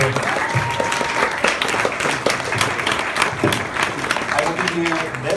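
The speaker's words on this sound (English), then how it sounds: "Give a big round of applause." A live audience applauds at a mentalist's show, dense close clapping, loud and sustained throughout, with voices mixed in.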